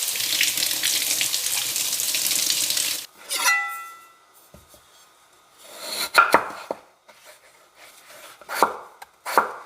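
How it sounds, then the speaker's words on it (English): Kitchen tap water runs steadily for about three seconds while something is rinsed under it, followed by scattered clatter and knocks of utensils and cookware in a quiet kitchen. "I'm going to give this a rinse."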